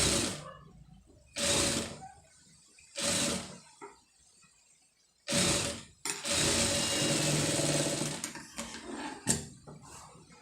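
An electric sewing machine stitches an embroidered blouse in short, loud whirring bursts separated by quiet pauses, then runs in one longer continuous burst near the end.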